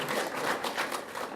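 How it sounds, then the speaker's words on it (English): Applause from a ribbon-cutting ceremony crowd at an art and design building addition, many hands clapping in a steady, fairly distant wash with soft rhythmic swells, no talking on top. "Applause, yeah"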